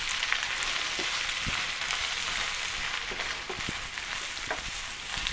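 Anchovy and brinjal curry sizzles steadily in a pan, a bright hiss of frying with occasional soft clacks and scrapes as it is stirred, fairly quiet and close.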